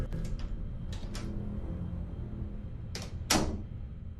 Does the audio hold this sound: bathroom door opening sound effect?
yes